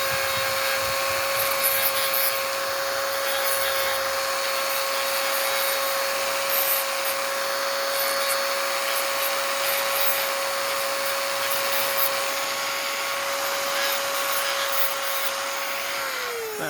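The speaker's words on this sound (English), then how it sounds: "you just go back and you just clean it up with Dremel" A Dremel rotary tool grinding and cleaning a Glock 43 magazine gives a steady high-pitched motor whine with light rubbing contact, running continuously and close, then winding down at the end.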